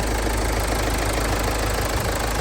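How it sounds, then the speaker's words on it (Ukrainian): A 2014 KIA Sorento engine idles close by with a steady, even rumble and a faint knocking texture, with no other sounds. "Мотор працює чітко, рівненько"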